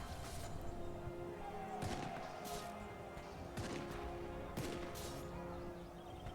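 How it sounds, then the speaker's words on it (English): Video game cannons firing on the front line for the Prussians in a European war campaign, several faint distant booms spaced a second or so apart over a steady low battle hum. "Yeah, the cannons are going."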